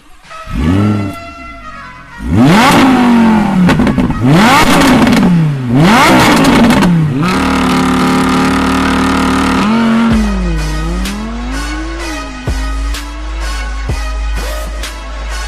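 An Audi R8 V10 Plus supercar revving and accelerating hard, the V10 engine climbing through several rising gear pulls before settling into a sustained, loud roar with shifting pitch, close and prominent without talk.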